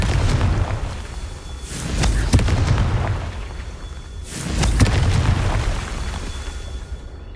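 Fire spell explosions cast in Hogwarts Legacy, two heavy booming blasts a few seconds apart, each with a sharp crack followed by a rumbling decay over continuous game ambience.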